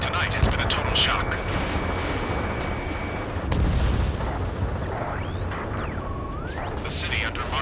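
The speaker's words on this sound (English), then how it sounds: "Gunfire and the roar of jets echoing through the streets." Booming explosions and bursts of gunfire from the video game Ace Combat 7 rumble through a noisy city battle scene with roaring jets, loud and continuous, with voices faintly underneath.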